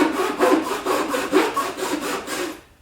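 A Japanese-style pull saw cuts through a wooden arrow shaft in about eight steady, rhythmic rasping strokes, close and clear with no talking, ending abruptly.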